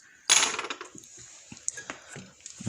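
Plastic parts of a Tamiya Globe Liner RC truck kit being snipped from the sprue, a sharp loud snap followed by smaller clicks and handling rattles of the plastic frame, close up with no talking.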